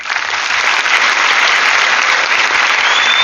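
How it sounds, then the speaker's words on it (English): Audience at a live topper's talk event in Ponda applauding steadily, a dense, even round of clapping that holds loud for the whole stretch without voices on top. "A round of applause, please."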